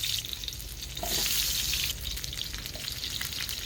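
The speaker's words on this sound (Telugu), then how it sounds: "కొంచెం వేగనిద్దాం. అంత కొద్దిసేపు మనం అలా వేగనించుకుందాం" Onions frying in two to three spoons of oil, a dense continuous crackling sizzle with occasional stirring swells, close and steady throughout.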